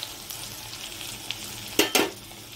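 Potatoes frying in hot oil in a home kitchen, a steady low sizzle with faint stirring, then two sharp bursts of louder crackle and scraping near the end.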